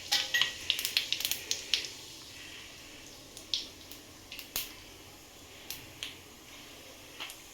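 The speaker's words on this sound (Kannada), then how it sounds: "ಈಗ ನಾವು ಜೀರಿಗೆ ಸಾಸಿವೆ ಹಾಕ್ತಾ ಇದ್ದೀವಿ." Cumin and mustard seeds dropped into hot oil in a pan, a run of scattered sharp pops and crackles, busy at first and thinning out to occasional spits.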